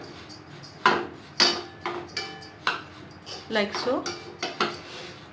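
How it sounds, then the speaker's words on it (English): Oats dry roasting in a pan: a utensil clinks and scrapes against the metal pan in a steady series of sharp knocks and stirs, close up, with a brief spoken phrase partway through. "So we will dry roast the oats for around 1 minute"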